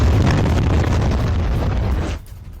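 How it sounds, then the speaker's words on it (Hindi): Loud broadband blast and rumble from an IED detonated inside a Gaza tunnel, a sustained roar that cuts off abruptly near the end, leaving quieter background. "इजराइल का आईईडी से गाजा के टनल में कैसे किया गया विस्फोट"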